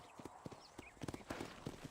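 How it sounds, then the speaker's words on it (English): Horse hooves clip-clop at a steady trot in the video game Red Dead Redemption, a run of sharp, fairly close knocks with a faint whinny-like trace in the background. "Control that horse, will ya?"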